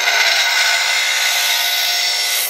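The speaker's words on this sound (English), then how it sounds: "This is just our initial sharpening" Hand-forged steel awl tip being sharpened on a power grinder before heat treatment, a steady, loud, bright grinding hiss that runs unbroken and close throughout.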